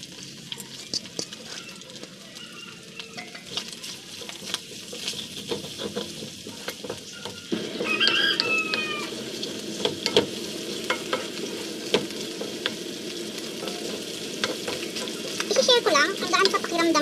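Garlic and onion fry in a pan alongside chicken for a low-carb meal, giving a steady moderate sizzle with frequent stirring clicks and scrapes that build slightly louder partway through.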